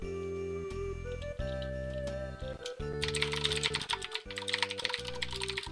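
Rapid computer keyboard typing, clicking quickly and closely over sustained music tones from an EarthBound game session, with the keystrokes growing denser partway through.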